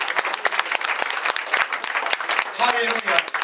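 A congregation at a French-language church service claps in quick, dense applause, close and lively, with voices calling out over the clapping.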